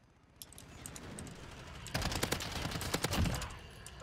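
Striker gunfire in the video game Modern Warfare, a rapid burst of close, sharp shots in quick succession after a quieter stretch with scattered distant pops and clicks.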